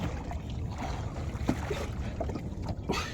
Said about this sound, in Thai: นี่ครับบรรยากาศรอบบางพระ